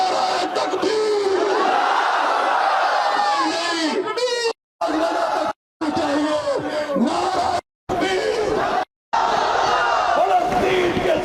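A large crowd at a religious gathering chants back in unison after a Takbir slogan, loud repeated shouts in bursts separated by brief silences.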